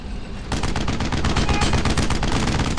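Rapid machine gun fire in the Brothers in Arms World War II shooter game, a loud continuous burst of closely spaced shots that kicks in after a brief moment of quieter background noise.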